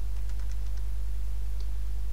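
A word is typed on a computer keyboard as a short burst of quick, light key taps, followed by one last isolated tap over a steady low electrical hum.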